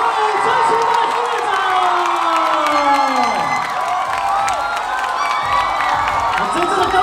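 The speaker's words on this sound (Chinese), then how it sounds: "请大家都不要吝啬你们的掌声跟叫声" A large rally crowd in Kaohsiung, Taiwan cheers and shouts continuously, a dense roar of voices with whoops and scattered clapping, steady and loud from start to end.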